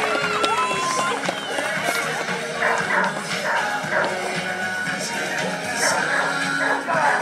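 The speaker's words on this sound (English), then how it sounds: "Now let's everybody cheer real loud for Rocky when he gets ready." A crowd at a dog long-jump event cheers and shouts loudly and continuously, with dogs barking and yipping throughout and occasional splashes or crashes mixed in.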